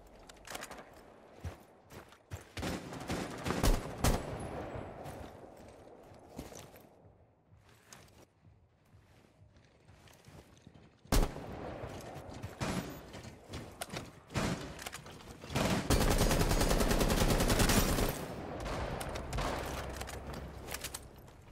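Rifle gunfire in a Rainbow Six Siege match, bursts of sharp shots and impacts spread across the stretch with quieter gaps and thuds between, moderately loud and fairly close.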